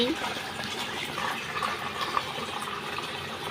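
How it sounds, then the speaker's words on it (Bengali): Water is poured into a turtle and fish aquarium, making a steady, close rushing splash that continues evenly throughout. "এই যে জল দিচ্ছি"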